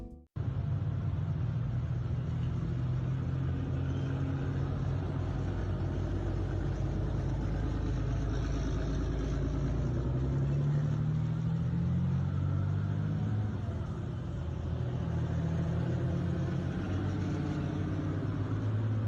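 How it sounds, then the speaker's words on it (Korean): Diesel engine of a Chinese Type 99 tank running, a deep continuous rumble with a steady throb and slight changes in pitch, close and loud throughout. "보시면 디젤 엔진 특유의 소음과 낮은 대역의 소리가 들립니다"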